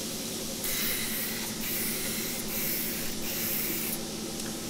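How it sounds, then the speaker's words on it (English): Spray gun coating a hydrographics dip kit part, delivered in repeated hissing bursts of about a second each with brief pauses between passes, close and steady. "So now let's go ahead and start spraying."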